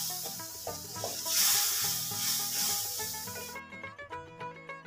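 Spice paste of turmeric, chili, coriander and cumin frying in a pan for a prawn and drumstick dish, a close bright sizzle that swells then cuts off abruptly, leaving quieter clinks and stirring sounds.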